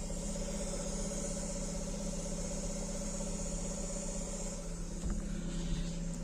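A VAZ 2110 car engine idles with a steady, even hum and a high whine on top, close by, changing only a little toward the end.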